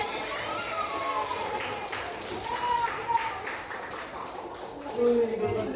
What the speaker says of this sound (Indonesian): Kasih tepuk tangan buat gue